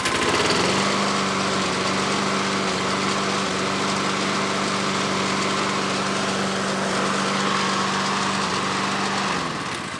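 A cheap junk lawnmower engine runs steadily and close after a carburetor fix. It makes a constant buzzing drone for several seconds and eases off near the end.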